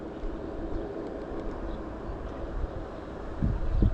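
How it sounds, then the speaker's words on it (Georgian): Strong wind buffets the microphone on the coast at Poti during a mullet spinning-fishing trip, a continuous low roaring rumble with gusts growing louder near the end. "ეს ქარი რო ჩადგეს, ძალიან კაი აქტივობა იქნება."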